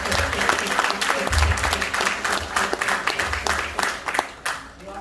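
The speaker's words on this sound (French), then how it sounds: "Applaudis le ciel." A church congregation applauds in dense, continuous clapping, loud and close, with voices mixed into the crowd noise throughout.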